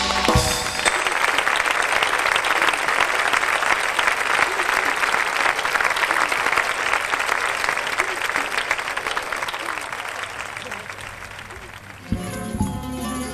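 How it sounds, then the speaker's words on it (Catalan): Strong, sustained audience applause for a performer at an anniversary concert, a dense even wash of clapping that holds steady for about twelve seconds, then fades out as the room begins to quiet. "Un fort aplaudiment per a Paco."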